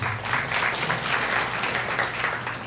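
An audience at a medical lecture course applauds to welcome an internal medicine lecturer, a steady, even roll of many hands clapping together in a room, moderately loud and unbroken.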